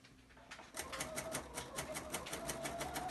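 A sewing machine with a quarter-inch foot chain-pieces Dresden plate quilt pieces, starting after a brief quiet moment into a fast, even run of rapid stitching clatter, close and steady to the end.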